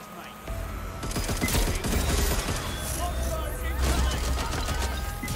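Automatic gunfire in Watch Dogs Legion rattles in rapid, dense bursts with sharp repeated cracks, loud and close, and a voice talks over parts of it.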